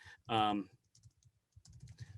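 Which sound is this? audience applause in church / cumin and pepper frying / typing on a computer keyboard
typing on a computer keyboard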